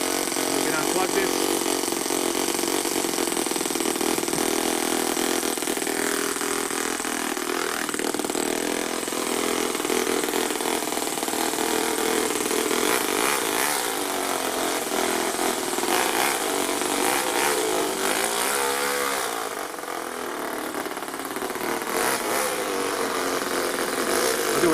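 A radio-controlled buggy fitted with a real four-stroke engine runs steadily and loudly throughout, a continuous buzzing drone with slight shifts in pitch that suggest revving.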